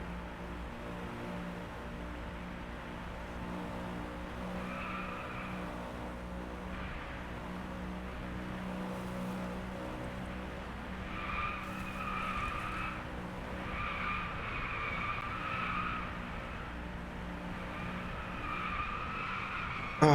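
Car in the video game Driveclub braking hard and skidding: a constant engine drone under long, high tire squeals that recur several times over about twenty seconds, loud and close.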